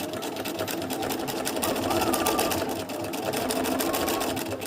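Sewing machine stitching fabric for machine embroidery on a collage print, a fast steady mechanical rattle running continuously at close range.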